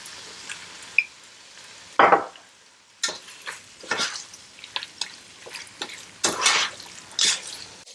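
Meat sautéing in oil in a pan for Persian loubia polo, with a steady sizzle broken by sharp clatters and scrapes of stirring.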